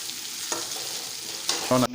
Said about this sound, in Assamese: আদা নহৰু পিঁয়াজৰ যি আমি তেলত ভাজি লোৱা মিশ্ৰণ আছিলে তাৰ লগত 1-2 মিনিটমান আমি ভাজি ল'ব লাগিব